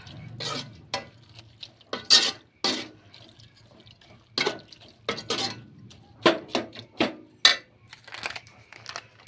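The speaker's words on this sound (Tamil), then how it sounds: "கொஞ்சம் கொஞ்சமாக சேர்த்து தண்ணி ஊற்றிக்கலாம்" Intermittent clinks and splashes in a kitchen, with water poured little by little and stirred into a pan of chicken-style meal maker and macaroni fry amid scattered utensil knocks and a faint background hum.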